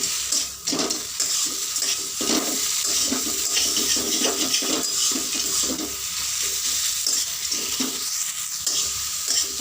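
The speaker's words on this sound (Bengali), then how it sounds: "এবার সব শেষে দিয়ে দেবো ভেজে রাখা বড়ি দিয়ে আবারও মিশিয়ে নেব" Fenugreek greens and fried lentil dumplings being stirred together in a pan, a close, busy run of repeated scraping and tossing strokes over a soft sizzle, lasting throughout.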